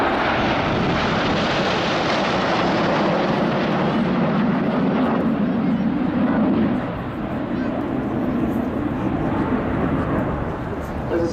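BAE Hawk jets of the Saudi Hawks display team fly in formation at an air show, a loud continuous roar of jet engines that swells and then eases slightly as the aircraft pass.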